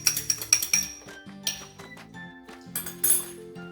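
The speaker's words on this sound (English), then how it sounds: "I'm going to take this, mix it up really well" Egg and water being whisked in a bowl for an egg wash on cheddar cheese bacon biscuits, heard as quick, close clinks of a utensil against the bowl in uneven bursts with brief pauses between them.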